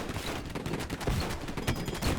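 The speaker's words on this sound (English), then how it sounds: "And that's just rapid fire on the miniguns." Airship miniguns fire rapidly in the strategy game Airships: Conquer the Skies, a dense, continuous rattle of overlapping shots that stays loud and busy from start to finish.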